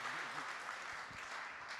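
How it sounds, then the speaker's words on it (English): Applause from the audience at a 2022 radio town hall political event. It is a faint, steady patter of clapping throughout, with a voice briefly heard at the start. "I'm going to let them give you an applause here."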